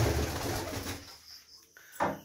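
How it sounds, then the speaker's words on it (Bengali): Saki Teddy high-flyer pigeons cooing softly nearby, low throaty coos in the first second fading into quiet, followed by a brief sharper sound near the end. "না এটা ওস্তাদ সুমনের কবুতর"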